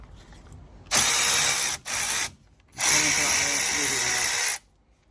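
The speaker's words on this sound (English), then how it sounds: "we're going to have to take the two big mounting bolts out on the back to get this whole caliper out of the way" A 13mm socket on a ratchet or power driver works the brake caliper mounting bolts loose on a Peugeot 107, giving two loud whirring, grinding bursts, a short one and then a longer sustained run of about two seconds.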